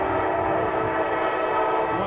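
Eastbound Norfolk Southern freight led by an ex-Conrail locomotive, its horn blowing one steady, sustained chord over the rumble of the train for about two seconds.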